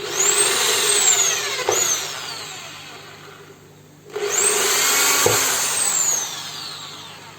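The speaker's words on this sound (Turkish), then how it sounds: "Şuraya da birkaç tane delik açalım." A power drill whines loudly with a high motor pitch while drilling holes in a Hamburg filter pipe, running in two long bursts separated by a short pause.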